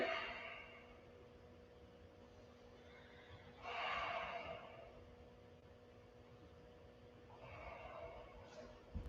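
Slow breathing during a home exercise class, with two soft, airy breaths a few seconds apart and a third near the end, faint and close against a quiet background.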